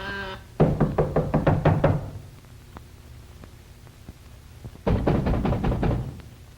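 A fist knocks on a door in a 1930s crime drama: a rapid burst of about a dozen loud, close raps, a pause with a few faint taps, then another hard flurry of knocks.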